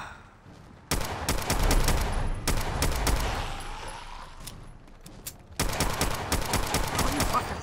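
Rapid bursts of gunfire in Fallout 4, loud clusters of closely spaced shots in volleys broken by short pauses, with a faint voice in the background.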